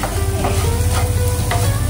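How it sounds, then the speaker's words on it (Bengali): Onion and tomato frying in a pan with oil, a steady close sizzle with soft stirring scrapes throughout, no talking. "এবার পেঁয়াজ টমেটোটাকে ভাজছি"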